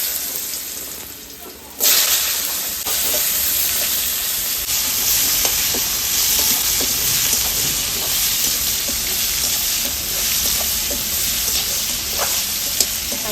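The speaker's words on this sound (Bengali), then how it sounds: "আলুটা একটু ভেজে নেবো ভালো করে" Potatoes fry in hot oil in a pan with dried red chillies and tempering spices for a paneer curry, a steady loud sizzle that jumps up suddenly and then holds, with faint scrapes and stirring clicks throughout.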